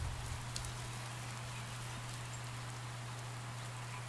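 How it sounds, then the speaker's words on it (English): Steady rain hisses evenly and continuously throughout the game scene, with no voices, over a constant low hum. "Why can I hear rain but I can't see it?"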